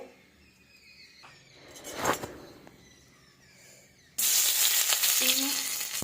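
Potatoes and green peas hit hot oil in a pan with a sudden loud sizzle that then hisses steadily, after a few seconds of quieter handling noises and a soft rustle.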